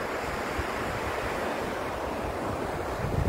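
Ocean surf breaking steadily on an African shore, a continuous broad wash of waves with wind noise across the microphone, no voices.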